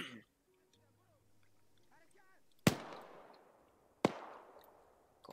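Mortar ranging shells landing on a hill in Arma 3, two sharp, loud impacts about a second and a half apart, each trailing off in a rolling echo, with a voice talking early on.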